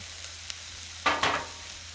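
Pork chops sizzle on a flat-top griddle in a steady, close frying hiss, broken by a brief scraping stir about halfway through.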